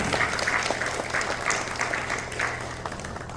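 Audience applauding a 13-year-old sitarist, a full steady round of clapping that eases slightly in loudness toward the close.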